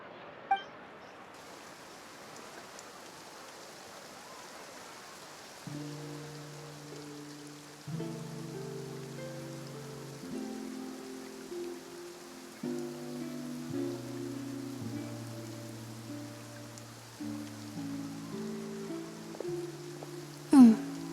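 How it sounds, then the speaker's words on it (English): Steady rain falls across Fontaine in the video game Genshin Impact, a soft even hiss running throughout while a game music melody with sustained tones plays over it. "Looks like rain."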